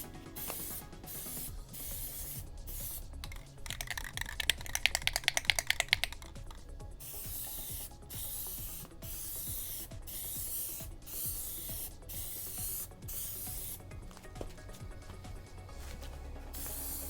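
Aerosol spray paint is misted onto a Boba Fett armor piece in rapid short bursts and longer hisses, close and fairly quiet, with faint rattles and no talking.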